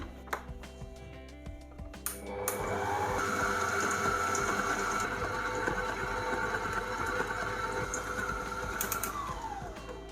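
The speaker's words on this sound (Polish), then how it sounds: "Teraz to wszystko razem, słuchajcie, wymieszam." A whirring electric mixer blends keto batter with vinegar and mascarpone, running steadily for several seconds after a few clicks and knocks, its motor hum close and continuous.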